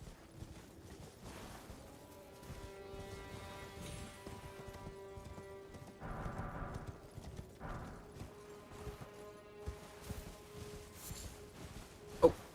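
Horse hooves clip-clopping in a steady walking rhythm in Elden Ring, faint and somewhat distant beneath game music, with a few louder thuds and a sharp knock near the end.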